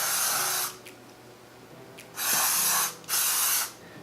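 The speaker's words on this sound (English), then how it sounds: "So I'm just gonna start spraying my whole chest" Glow body spray is misted over the chest in three bursts: a long hiss, a pause, then two shorter sprays close together, each close to the mic and crisp.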